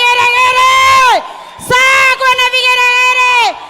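A church congregation ululates in two long, high trilling bursts, each ending in a falling glide, loud and close with a short gap between them.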